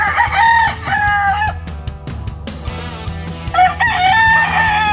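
A panawayon stag rooster in a small backyard poultry pen crows loudly and close, with repeated long calls and some clucking filling the moment, no talking.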